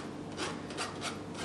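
Soft rhythmic scraping against the inside of a colander while pressing cookie dough through it, a few gentle rasping strokes close by and quiet.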